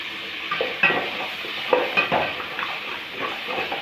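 Fresh coriander and mint leaves being stirred in a pan, a soft sizzle under clattering spoon scrapes and knocks against the metal, uneven and close.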